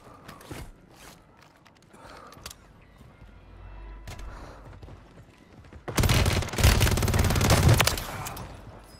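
Call of Duty: Modern Warfare II Warzone gunfire: scattered single shots and footsteps at first, then a loud, sustained burst of rapid automatic fire close by, with faint radio chatter in the quieter stretch.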